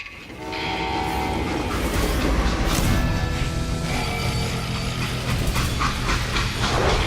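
A train in the Western shooter game Call of Juarez rumbles steadily and loudly throughout, with horn-like tonal blasts layered over rolling wheel and carriage noise, and no talking.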